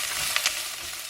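Onions frying in a generous amount of oil in a pan, a dense continuous hiss of sizzling with a couple of brief stirring scrapes, near and steady, no speech.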